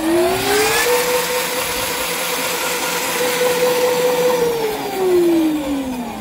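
A 36V electric bike motor at 100% power whines loudly and steadily up close, its pitch rising and holding high before dipping slightly near the end.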